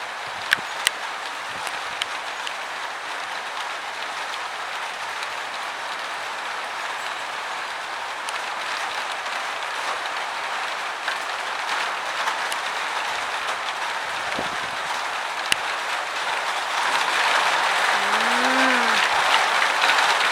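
Heavy rain falls in front of a house, a continuous broad wash of pattering drops with scattered sharper taps, swelling slightly louder toward the end.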